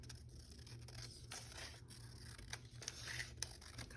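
Scissors trim paper for a handmade junk journal, a few quiet snips and scraping cuts spaced out over faint background hiss.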